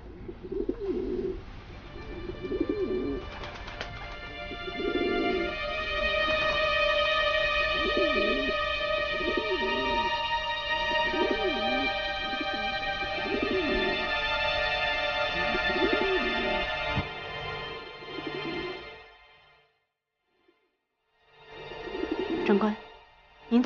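Pigeons coo in a repeated rhythmic pattern for most of the stretch, close and clear, while a sustained musical drone plays alongside; after a brief silence the cooing returns at the end.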